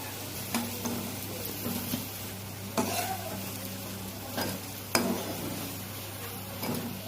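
Potatoes frying in a pan with salt and turmeric, a low steady sizzle over a faint hum, with occasional spoon scrapes and clinks at irregular intervals.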